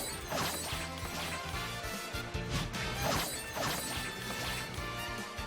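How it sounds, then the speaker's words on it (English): In Super Smash Bros Ultimate, Simon and Richter's stage entrance brings a few whip cracks and lashes over busy background music, each one a sharp snap that stands out only moderately. "The sound effect for the whip does at least make it a little better than Rosalina though."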